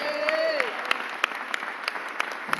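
A councilwoman is applauded at a mayor's press conference: a modest crowd claps at close range, with a faint voice or tone trailing off at the start.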